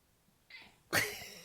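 A cat gives a short, breathy sound and then a sharp, loud meow close by, with quiet in between.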